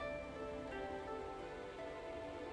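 Steady rain in a pixel-art samurai sandbox RPG falls as a soft, constant hiss and patter, faint and even throughout, with a sustained tonal background layer and no talking.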